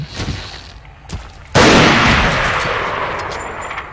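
Loud burst of video game gunfire erupts midway and rings on with a sustained, roaring decay, preceded by quieter scattered shots and thuds.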